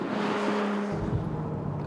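A Ferrari 296 GTS convertible supercar drives with the roof down, its engine droning steadily with a brief rise in pitch over a constant rush of road and wind noise.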